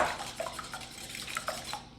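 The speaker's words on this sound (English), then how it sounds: "we only need to whisk them for a few seconds" Eggs whisked briefly in a bowl for moussaka, giving quick, light clinking and scraping taps, close and fairly soft, with no voices.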